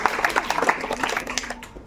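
Students clap in applause at a Bihar board results event, a lively, dense patter of hand claps under a faint voice, fading slightly toward the end.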